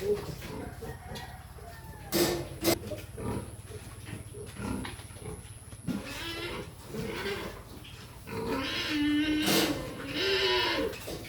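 A pig in heat squeals and grunts repeatedly in uneven bursts, nearby, with high-pitched cries growing louder toward the end over steady farmyard noise.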